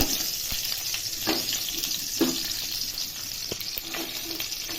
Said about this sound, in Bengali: এগুলো দিয়ে ভাজতে থাকবো, রসুনগুলো তো ভাজতে হবে বেসিক্যালি